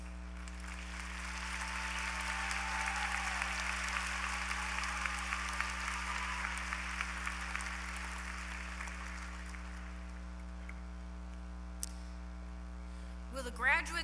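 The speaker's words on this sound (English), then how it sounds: "Let's applaud our doctoral graduates." Audience applauding doctoral graduates at a university fall commencement ceremony, sustained clapping filling a large hall over a steady electrical hum, tapering off near the end with a few scattered claps and a brief knock.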